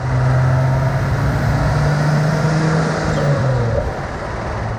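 A Venturi 221 Cup sports car with an old-school V6 turbo cruises on country back roads, its engine drone steady and loud with a gentle rise in pitch before easing off near the end.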